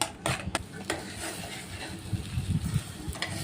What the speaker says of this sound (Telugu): బర్నర్లో నూనె వేసి బాగా ఫ్రై చేయాలి